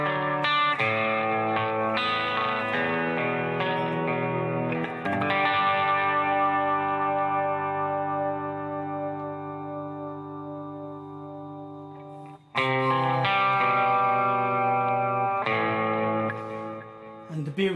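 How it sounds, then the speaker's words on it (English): Harley Benton SC-450 P90 GT electric guitar on its bridge P90 pickup, played through an amp adding distortion, chorus and echo; loud strummed chords and a long ringing sustained chord that decays before sharp strums return. "Bridge pickup, the effects are coming from the amp,"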